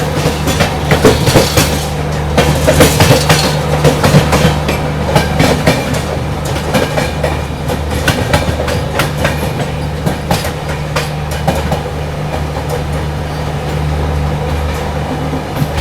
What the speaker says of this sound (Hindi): ये देखो उत्कल एक्सप्रेस स्पीड अप हो रही है